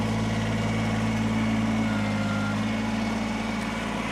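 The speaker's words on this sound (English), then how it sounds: "So, I'm going to fire this thing up." A 2019 Kubota BX23S compact tractor with backhoe runs with a steady, loud, close diesel drone that stays even throughout, with no voices.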